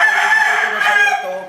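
A game fowl rooster lets out one loud, close crow that holds, then falls away at the end.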